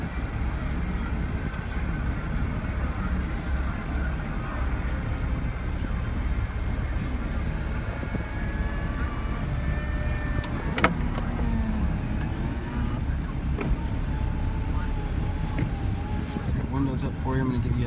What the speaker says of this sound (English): Let's go ahead and put the top up here.